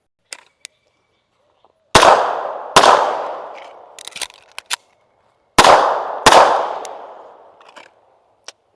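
Alpha American AAF3 2011 pistol fired at a target, four loud sharp shots in two spaced pairs with ringing decay, plus a few faint clicks and metallic taps between them.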